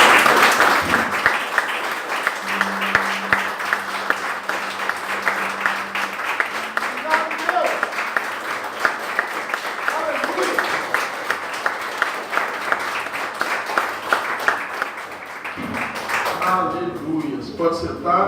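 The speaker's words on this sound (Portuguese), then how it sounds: "Então eu queria te convidar a bater palmas" A church congregation applauding during a worship service, with continuous dense clapping from many people and voices speaking and calling out over it throughout.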